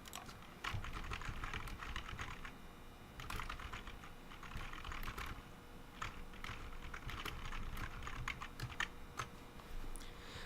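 Steady clatter of typing on a computer keyboard as an issue description is entered into a support request form, a continuous run of close, quick keystrokes with no talk.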